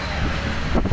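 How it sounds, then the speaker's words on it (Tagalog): Strong wind at an outdoor market in BGC, Taguig roars across the microphone in a constant rushing blast, loud and close, with a heavier buffeting gust near the end. "Wow, sobrang hangin."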